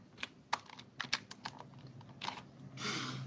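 Keys tapped on a computer keyboard in short irregular bursts, fairly quiet and close, ending in a brief rush of broadband noise.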